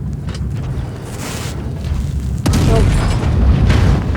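A tank cannon shot strikes an enemy in World of Tanks Blitz, a heavy low boom at mid-clip over a steady rumbling engine and wind-like bed, loud and close.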